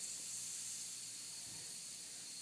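A pumpless misting system sprays a fine mist as a steady, even hiss that runs without a break, close and fairly quiet, with no voices.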